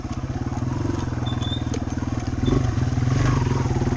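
Yamaha TW200 dirt bike riding through tight technical woods, its single-cylinder engine thumping in a steady, rapid low putter close by, with a brief rise in revs partway through and faint clatter over the rough trail.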